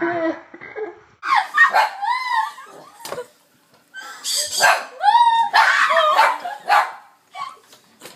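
A dog barks and yips in short loud bursts mixed with laughter, and people talk in a lively studio setting around it.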